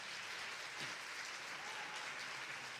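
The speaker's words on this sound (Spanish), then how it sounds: "Por favor, un aplauso para" Audience applause at a short-film gala in Noia, a dense, even wash of clapping from a hall full of people, sustained and fairly distant, with no voices standing out.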